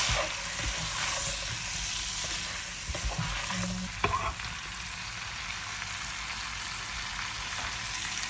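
Shrimp sauté in a pan with chili powder and all-purpose seasoning, giving a steady close sizzle with scattered stirring scrapes and a sharper clack near the middle.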